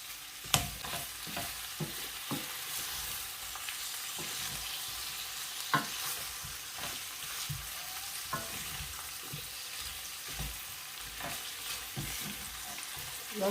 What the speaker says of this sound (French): Je vais vraiment bien faire cuire la viande,